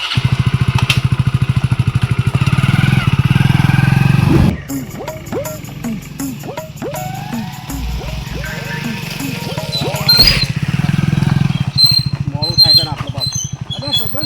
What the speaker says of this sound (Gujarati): એ વળી કાનું બાઈક લાવ્યો લે